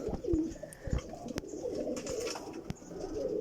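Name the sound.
Kamgar pigeon cooing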